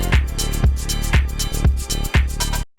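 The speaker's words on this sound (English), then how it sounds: "But then we bring in the second one" A second shaker layer added to a drum beat, with steady rapid shaking ticks over a thumping kick pattern, loud and dense, no voices, ending abruptly.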